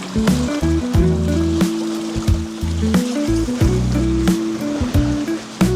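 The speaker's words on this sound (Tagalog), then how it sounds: "Malakas na hampas ng alon." Strong ocean waves crash on a Boracay beach in repeated surging bursts of rushing water, loud and close, with intermittent tonal droning mixed into the roar.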